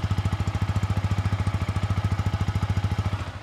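A Yamaha R15 motorcycle engine idles steadily up close, a fast, even low-pitched putter with a slight clatter, no voices.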